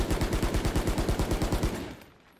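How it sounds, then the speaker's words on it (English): A Bulldog automatic rifle fires in the video game Valorant in a fast, even burst of about fifteen loud, punchy shots, closely spaced, then a short ringing tail fading to quiet. "Basically, it's a fully automatic rifle that can use its alternate fire and then has a burst and a small zoom."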